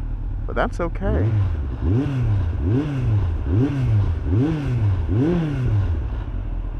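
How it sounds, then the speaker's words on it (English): A motorcycle with carburetors freshly synced idles close by with a raised idle, its engine note swelling and dipping in a steady rhythmic pulse about once a second, after a brief voice at the start. "I got the carbs synced, so that idle is a little bit higher than it did before"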